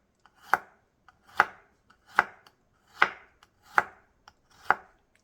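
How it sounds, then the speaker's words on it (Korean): A kitchen knife slices garlic into thin pieces on a cutting board, making six crisp, evenly spaced chops close up with no one talking. "뭘 준비를 하냐면 마늘을 편을 써서 놓을 거예요."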